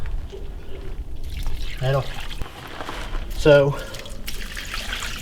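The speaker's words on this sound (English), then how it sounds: "I'm gonna pour a little bit of this water around it, help this waste rock to settle a little bit." Water poured from a container around a pipe onto loose waste rock, a soft trickling splash heard in short bursts beneath a man's speech.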